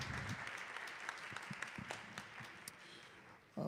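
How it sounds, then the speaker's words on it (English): A forum audience in Harlem applauds for a mayoral candidate at the 2025 NYC mayoral candidates event. The clapping is steady but fairly quiet and distant, a continuous patter across the clip, and a voice can be heard faintly underneath. "You can give her a round of applause."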